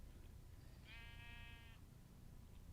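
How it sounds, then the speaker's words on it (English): A single short sheep bleat from Minecraft, heard once against a soft steady background hiss, with no talk. "I don't know how this sheep got up here, he's a crazy sheep."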